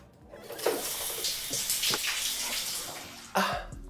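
Shower water runs steadily with a broad hiss, close and fairly loud, broken by a few brief splashy changes in the stream and a sharper burst near the end.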